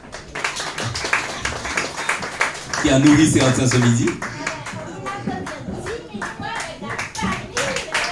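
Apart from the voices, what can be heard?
audience clapping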